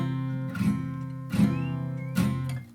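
Acoustic guitar chord strummed three times with one string muted by a stray fingertip, each strum giving a short dull thud among ringing notes; quiet and close.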